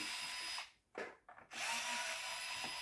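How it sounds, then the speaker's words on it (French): Cordless screwdriver backing out stainless steel screws from the hull of a Windbird wind sensor. Close, steady motor whir runs in bursts, with a few brief pauses between screws. "on commence par dévisser les 10 vis de la coque"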